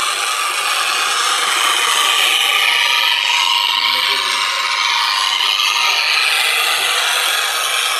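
An abrasive fiber pad rubs across car paint to clear holograms, a loud, continuous close scratching and scrubbing hiss that runs evenly throughout with no talking.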